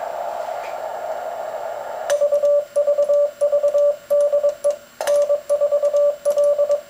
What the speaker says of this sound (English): this is what the side tone sounds like when I key.